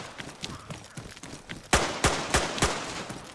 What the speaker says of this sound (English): Oh, it's me shooting the zombies.